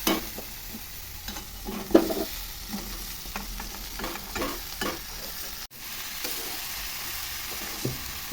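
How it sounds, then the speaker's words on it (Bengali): Eggplant, broccoli stems, potato and Malabar spinach leaves stir-fry with turmeric, cumin and coriander powder in a pan: a moderate sizzle broken by repeated spatula clicks and scrapes. "এবার সবজিটা ঢেলে দেবো।"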